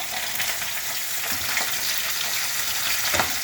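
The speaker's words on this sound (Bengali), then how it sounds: "মাছ ভাজা সব হয়েই এসছে," Chital fish belly pieces fry in hot oil for a festive meal, giving a steady, close crackling sizzle throughout with occasional louder pops and spits.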